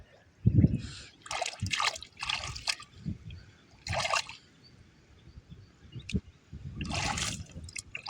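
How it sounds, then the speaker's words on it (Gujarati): Water trickles and splashes into a tank in uneven bursts, close by, with pauses between the gushes and some faint background noise. "જો આમાં જ પાણી આવે ભાઈ"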